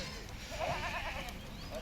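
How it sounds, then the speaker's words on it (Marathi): A dairy goat bleating briefly on a farm, one wavering bleat at mid distance over a steady background hum. "हे बघा दुधाची शेळी."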